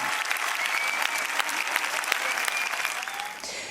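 More than 4,000 spectators at a summer concert in Sicily give a broad, continuous wave of applause that fills the space evenly and tapers slightly at the end.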